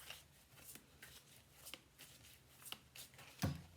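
Tarot cards being shuffled by hand, a series of soft riffling flicks in an irregular rhythm ending with a firmer tap, close but quiet, with no speech.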